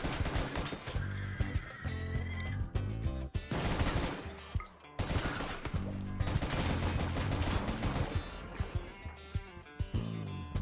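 Rapid bursts of gunfire from colonists shooting in the game Rimworld, dense and continuous for most of the stretch with a brief lull near the middle, loud and close with no talk over it.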